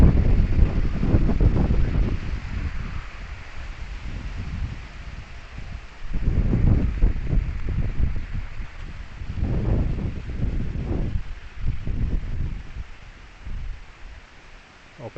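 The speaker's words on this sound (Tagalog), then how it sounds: "May mga hangin to." Wind gusts roar outdoors after a typhoon, rising and falling in long heavy surges with rumbling buffeting on the microphone and rustling leaves.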